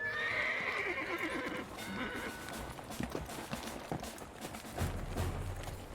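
Horses neigh in the video game Lost Odyssey, a loud whinny at the start followed by hoofbeat clip-clops and busy background sound, with no talk over it.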